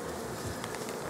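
Honey bees buzzing at a crowded hive in mid-March, a steady, close, continuous hum with no talk over it.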